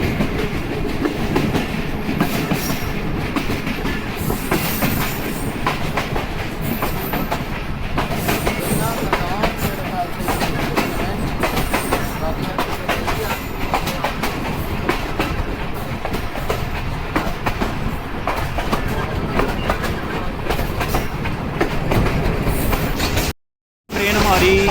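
Allama Iqbal Express, an AC standard coach on the Sialkot to Lahore run, passing through a station with a steady loud rumble and clickety-clack of wheels on rail joints, heard from inside throughout with faint voices.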